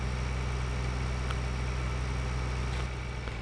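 Steady, close tractor engines idling in Farming Simulator 2013, a constant low rumble that holds level throughout without change in rhythm.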